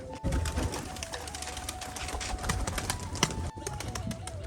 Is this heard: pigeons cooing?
yes